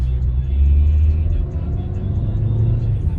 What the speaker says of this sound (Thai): ไปเลยครับออกตัวเกียร์หนึ่ง